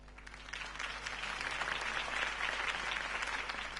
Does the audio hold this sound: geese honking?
no